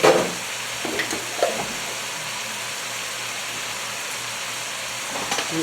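Minced garlic, about a heaping tablespoon, fries with other taco soup ingredients in a pan while being stirred and chopped; a steady close hiss of sizzling runs throughout, with a few soft scraping knocks of the utensil.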